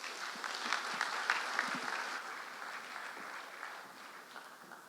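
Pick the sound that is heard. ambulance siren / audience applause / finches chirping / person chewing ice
audience applause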